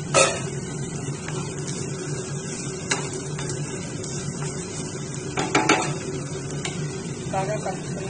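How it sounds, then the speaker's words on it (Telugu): A spoon stirs chopped carrots and potatoes into fried mung beans in a pot for a millet khichdi, with scattered clinks and scrapes against the metal over a low steady background and a faint sizzle. "పెసలు బాగా వేగాయి కదా, కట్ చేసుకున్న క్యారెట్, బంగాళదుంపలు వేసి బాగా కలుపుకోవాలి."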